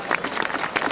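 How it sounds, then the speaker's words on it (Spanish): A crowd at a fencing event in Montiel applauds, a brief, dense burst of clapping close up. "un aplauso para ellos."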